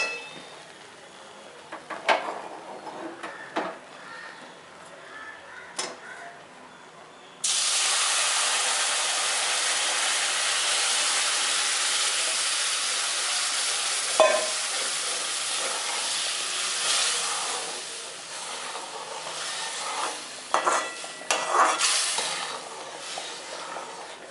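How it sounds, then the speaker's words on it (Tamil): Hot water poured into frying semolina in a hot pan bursts into a loud, sustained sizzling hiss that gradually eases, after quieter scraping and clinking. "ஊற்றி வச்ச வெந்நீரை இதை விட்டாச்சு"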